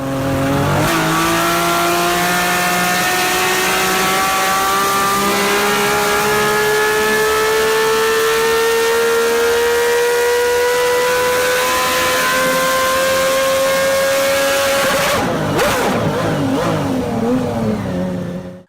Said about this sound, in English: By 1990, they had Lamborghini V12s,